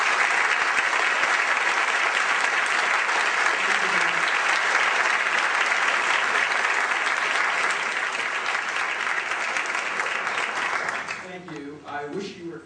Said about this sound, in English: I wish you were clapping both for me and for Judge Goldstone